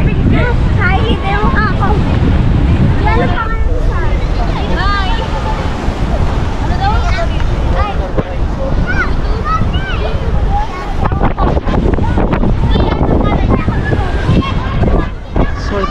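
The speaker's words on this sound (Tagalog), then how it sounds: "Lakas ng hangin." Strong, roaring coastal wind at Rosario, Cavite buffets the microphone continuously, with heavy low rumble and gusty bursts, while a voice talks intermittently over it.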